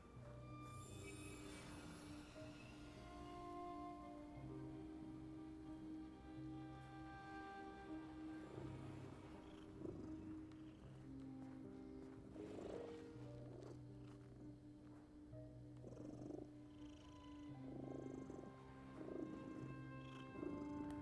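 A cat purrs in The Midnight Walk video game, a steady low rumble that runs the whole stretch under soft chiming game sounds.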